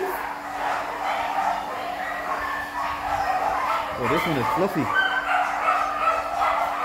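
Dogs bark at an RSPCA animal shelter during a kitten adoption, rising as a noisy chorus behind steady background hum, with a person speaking over the din.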